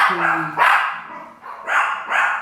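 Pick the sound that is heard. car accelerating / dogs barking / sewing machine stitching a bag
dogs barking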